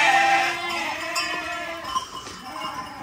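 Several sheep bleat in overlapping calls nearby, a steady chorus of wavering cries with occasional clanks in the background.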